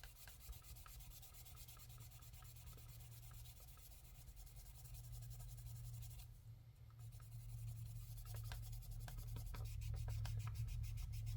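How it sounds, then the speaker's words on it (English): Sandpaper rubbing by hand along the primered edge of a car trunk, a steady continuous scratchy abrasion that holds even and close for the whole stretch, growing slightly louder toward the end, with no talking. "That's why I like using the sandpaper for this, because it's not as aggressive."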